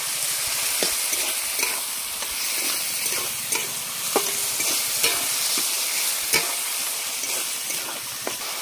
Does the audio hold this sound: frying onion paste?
yes